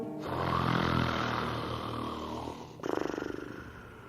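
A sleeping dragon snores in a 1985 children's song, a voice imitating the sound with a long rasping inhale followed by a fluttering, rattling exhale, close and moderately loud over soft musical backing.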